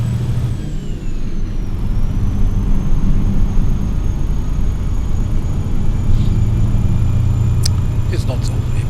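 A truck engine in Euro Truck Simulator 2 roars at full throttle, a loud, continuous low drone with a faint rising whine above it and a few short clicks near the end.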